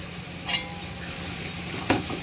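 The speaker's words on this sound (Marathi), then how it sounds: "ते पण मस्तपैकी आता आपण करपवून घेऊया भाजून." Mixed spice masala roasting in a pan for village-style mutton, a steady low sizzle with occasional soft scrapes from stirring, close and fairly quiet.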